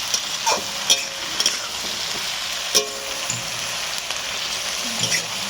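Mixed vegetables stir-fry in a pan for veg chowmein, a constant close sizzle broken by sharp intermittent scrapes and clacks of the spatula.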